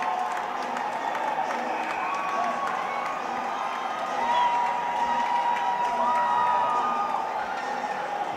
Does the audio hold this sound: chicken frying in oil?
no